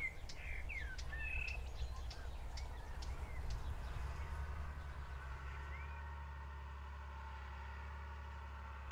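A rook calling outdoors, several short harsh chirps and caws early on over a steady low rumble of passing road traffic, the calls thinning out as the engine hum continues.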